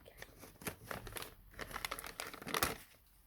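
Packaging from a surprise box crinkles and rustles close by in bursts of crisp crackling, swelling to a louder tear-like crunch near the end.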